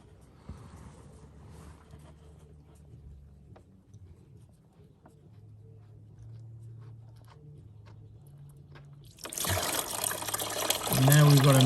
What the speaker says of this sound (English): now we've got a mixture of water and oil gushing out into the drain pan